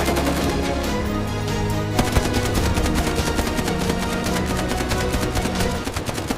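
A Coast Guard cutter's machine gun fires a disabling burst toward a smuggling boat's waterline, a dense run of rapid, loud reports repeating without pause for several seconds.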